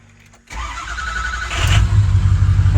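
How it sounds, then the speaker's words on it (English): A Ford F350 pickup truck cranks and fires up, the starter's short whir leading into a steady, rumbling idle that grows slightly louder, heard close with no talking. "Let's start the truck up and see if it"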